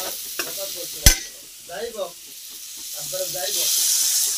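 Dried fish curry with radish being stirred in a frying pan: a sharp utensil knock, then scraping stirs over a soft sizzle, with a voice talking over parts of it.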